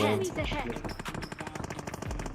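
Rapid automatic gunfire from PUBG Mobile rattles out in bursts across the whole clip, with a player's voice heard briefly at the start.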